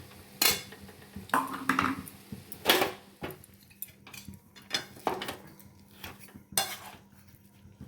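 A spatula stirs milk with sugarcane jaggery and coconut in a pan, giving separate metallic scrapes and clinks every second or so, close and moderately quiet, with no talk.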